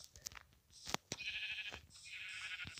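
Sheep bleating in the Minecraft video game, a few short, faint bleats close together over a quiet background.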